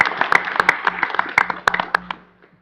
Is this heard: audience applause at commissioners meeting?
yes